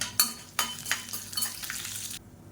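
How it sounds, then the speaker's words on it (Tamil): Mustard seeds, dried red chillies and curry leaves crackle in hot oil for egg fried rice, with sharp popping bursts and spoon scrapes against the pan, close and moderately loud. "ஒரு டீஸ்பூன் போல் கடுகு சேர்த்துக்கலாம் அது கூடவே மூணு வரமிளகா கிள்ளிட்டு வச்சுருக்கேன் அதை சேர்த்துக்கலாம் இது கூடவே கருவேப்பிலை சேர்த்துக்கலாம்"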